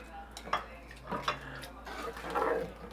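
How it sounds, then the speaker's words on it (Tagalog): A spoon clinks and scrapes against a pot while laing is mixed with coconut milk, garlic and ginger, giving a few scattered soft knocks and taps over a quiet kitchen background. "Pwede mo na siyang ihalo-halo."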